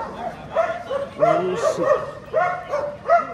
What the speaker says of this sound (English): Some dogs. Dogs going crazy.